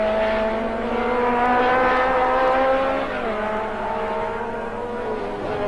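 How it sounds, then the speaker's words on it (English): An Air Force 2 (AF2) race car at the final round of the 1980 championship, its engine a loud, sustained high-revving scream that rises and shifts pitch as it passes through a run of bends. "John Bowe down through the S's, looking pretty good."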